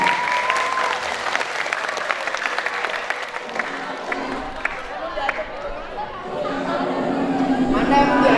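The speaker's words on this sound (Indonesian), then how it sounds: "kasih tepuk tangannya dong" An audience at a meet-the-author event on creative writing breaks into loud, dense applause that gradually thins into crowd chatter and murmuring voices.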